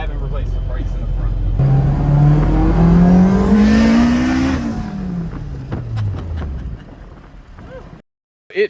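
A K-swapped, all-wheel-drive turbo Honda Civic EG hatchback accelerates hard, its engine note climbing steadily in pitch, then easing off and falling before a brief silence, loud and close from inside the car.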